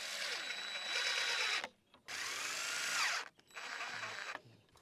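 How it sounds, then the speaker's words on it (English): A power drill drives screws into wood during a backyard duck pool build, whirring in three close bursts, the second winding down in pitch before the last one starts. "I am going to put screws in some of these to hold them in place."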